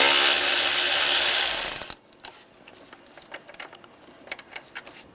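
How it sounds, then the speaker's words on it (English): A ratchet with an 8mm socket loosening the fan bolts on a 2005-2007 Ford Five Hundred: a loud burst of broad noise for two seconds, then faint, scattered ratcheting clicks close by. "On the 2 sides of the fan, I'm going to take these bolts out, use an 8mm socket."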